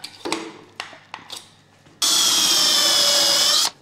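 A power drill fitted with an adjustable depth stop bores into wood in one loud, steady burst of whirring and grinding, preceded by several sharp knocks and clicks.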